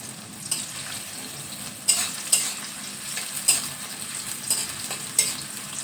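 Sliced onions (beresta) fry in a pan for chicken pulao, giving a steady close sizzle with several sharp stirring clinks and scrapes spaced through it.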